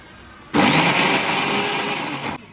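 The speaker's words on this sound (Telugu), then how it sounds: "మళ్ళీ ఒకసారి మిక్సీ పట్టుకుందాం ఫ్రెండ్స్ దీన్ని." After a quiet moment, a kitchen mixer grinder roars to life, whirring loudly and steadily for nearly two seconds, then stops sharply.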